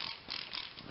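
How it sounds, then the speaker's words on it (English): Water squirted from a hand spray bottle onto a car body panel during dent repair, a few quick hissing sprays with soft trigger clicks in a quiet space. "get some water, spray it down"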